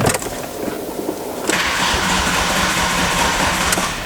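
A car engine cranks with a booster and struggles to fire after sitting unused for a while, with a loud, continuous rough turning-over that grows harsher midway.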